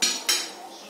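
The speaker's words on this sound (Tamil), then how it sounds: "குக்கர் மூடி ஓப்பன் பண்ணியாச்சு." A metal pressure cooker lid being opened in a home kitchen after cooking goat intestine curry, two quick bright metallic clanks of pot and lid, close and sharp, with a fading ring.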